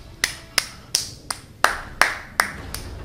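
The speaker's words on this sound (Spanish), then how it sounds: "Aplausos, aplausos, aplausos." A few sharp, evenly spaced claps ring out one at a time, slow and deliberate, with nothing else around them, from the video game Gears of War: Judgment.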